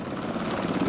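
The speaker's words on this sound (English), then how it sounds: "For some of the wounded, the only way out was medevac choppers." A medevac helicopter flying, its rotor and engine giving a continuous, steady broadband roar at moderate loudness, with no talking.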